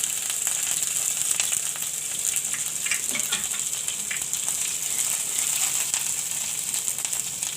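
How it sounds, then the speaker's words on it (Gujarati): Cumin seeds sizzle in hot oil while jeera potatoes are being cooked, giving a steady, close, fairly loud crackling hiss with small pops that carries on without a break. "તો આપણું તેલ ગરમ થઈ ગયું છે તો આપણે પહેલાં એમાં જીરું નાખી દેવું"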